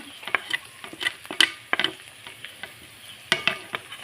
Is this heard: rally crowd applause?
no